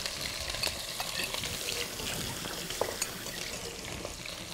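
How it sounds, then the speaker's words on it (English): Onions fry in hot, spluttering oil in a pan, a close, steady sizzle with stirring scrapes and small crackles running throughout. "I'm going to add in my onions."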